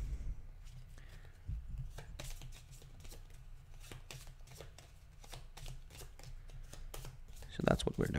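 Summoning cards for the Pandemic Reign of Cthulhu board game get shuffled close up, a run of quick riffling flicks and taps that swells near the end, with someone talking throughout.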